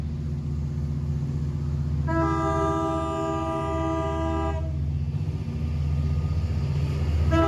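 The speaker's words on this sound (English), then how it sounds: "we see Montauk Branch Train number 6011 departing East Hampton Station on its way to Jamaica" A Long Island Rail Road diesel locomotive on Montauk Branch train 6011 sounds a long, loud multi-tone horn blast as it departs East Hampton Station, over a steady rumbling diesel engine. A brief second toot follows at the end.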